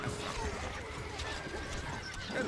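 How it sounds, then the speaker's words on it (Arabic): Horse in the game Stronghold: Crusader galloping with busy clip-clop hoofbeats and a neigh over a dense, noisy in-game background, fairly faint overall with some speech-like sound mixed in. "الفرس تعدو."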